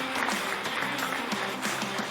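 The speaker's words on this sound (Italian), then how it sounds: "perciò un applauso a Luca" A studio audience at a local sports television broadcast applauds for a birthday, giving a short, dense burst of clapping that continues steadily for its whole length.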